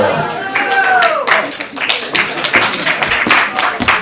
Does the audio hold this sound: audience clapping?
yes